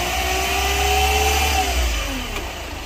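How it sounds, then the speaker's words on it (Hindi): A Ford Figo diesel engine running steadily as the accelerator is pressed, a loud, close, rumbling drone that rises slightly and then eases, with no talk. "अब एक एक्सीलेटर दे रहा हूँ"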